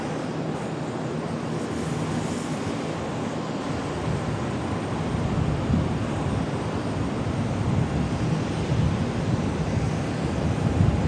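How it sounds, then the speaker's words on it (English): An American Airlines Airbus A319 taxiing out for departure produces a steady, broadband jet-engine rumble and whine at a distance, continuous and gradually building, with no voices. "There we've got our A319 out for departure."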